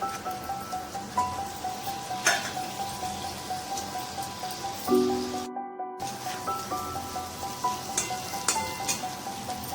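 Fish pieces dropped into oil with fried chilli and turmeric spit and sizzle in a soft crackling patter, close and steady, with a brief sharp clatter midway and no speech.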